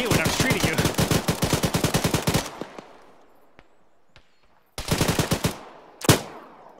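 Gunfire in the military game Arma: a long, loud automatic burst of rapid evenly spaced shots, a pause with distant pops, then another close burst and a sharp single blast.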